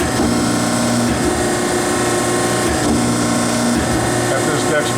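A Mitts & Merrill K-2024 microprocessor-controlled hydraulic keyseater runs its smoothing strokes, a steady loud mechanical drone with a ratcheting clatter and two long hum passes, no voices.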